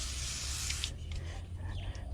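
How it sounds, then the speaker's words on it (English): A can of WD-40 sprays onto hands in a sharp, close hiss that lasts just under a second, then cuts off to leave quieter rustling and faint handling noise. "you just sit back there and spray it on your hand"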